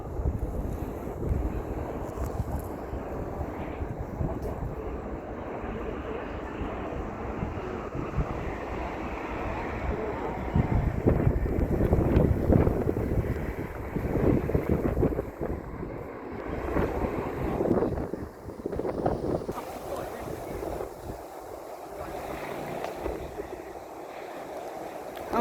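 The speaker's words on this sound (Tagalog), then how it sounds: "Ang hangin." Strong wind buffets the microphone on a boat in Hong Kong, a continuous roaring rush with water wash beneath it and gusts that peak in the middle, while voices murmur faintly.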